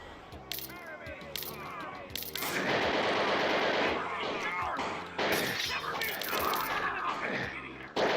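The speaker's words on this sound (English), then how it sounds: "You use a giant cannon instead of a rocket launcher to blow away scurvy dog zombies." Cannon blasts and rapid gunfire from the shooter game Doom running the nautical Pirate Doom mod, with dense overlapping shots and explosions packed loudly through most of the stretch.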